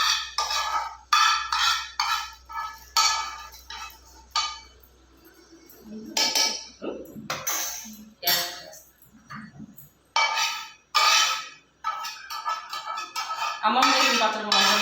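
Mustard and fenugreek seeds are crushed in a stone mortar for gongura chutney, giving repeated close, gritty rattling and clinking bursts with pauses, and a voice talking between them.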